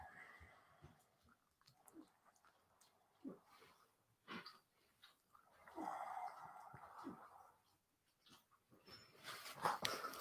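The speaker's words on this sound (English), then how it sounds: "the dogs are like licking right next to the microphone" Dogs licking and snuffling right beside the microphone during a quiet home yoga session, with wet smacking, snorts and breathy bursts in irregular clusters, loud and close, between long near-silent gaps.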